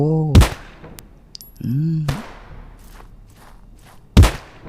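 Gunfire in the video game Polyfield: a few sharp, loud shots come close together at the start, with another single shot near the end and a quieter muffled thump in between.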